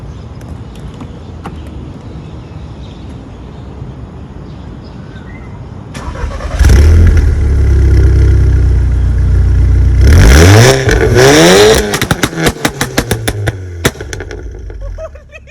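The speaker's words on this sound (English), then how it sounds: "I'm going to start the engine and then you listen to the noise." A 2012 Volkswagen MK6 Golf R tuned to stage 2 with a 3-inch downpipe and stock catback cranks and fires loudly, idles with a deep rumble, then revs hard in sharp rising bursts and pops.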